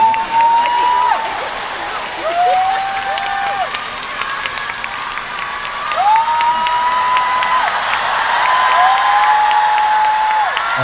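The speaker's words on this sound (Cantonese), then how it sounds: "俾啲掌聲自己" A large crowd at a live pop concert in Macau claps and cheers, with sustained applause and whoops. Amplified tones from the stage rise and fall over it and a voice speaks through a microphone.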